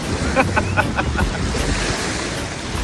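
Strong wind buffets the microphone beside a river during a fishing trip, a continuous roaring rush with gusty swells and a few brief knocking sounds near the start.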